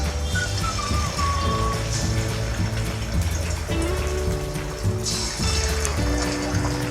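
Marinated fish fries in hot oil in a constant, close bubbling sizzle with liquid crackle, and faint tones drift in the background.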